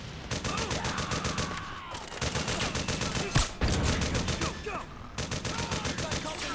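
Rapid automatic gunfire from the video game Metal Gear Solid 4 rattles on almost without a break. The volleys are loud and dense, with a few heavier single shots among them.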